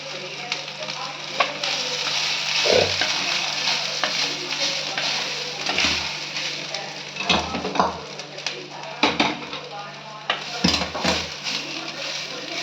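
Coconut roasts in a hot pan for veldt grape chutney. A steady dry sizzle runs throughout, broken by scraping stirs and occasional clunks of a spatula against the pan, close and alone.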